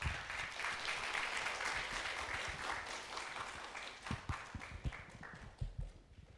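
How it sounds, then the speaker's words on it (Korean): Audience applause after a university lecture on digital platform government, a dense, steady patter of many hands that thins into scattered claps toward the end, with no speech over it. "다시 한번 큰 박수 부탁드립니다"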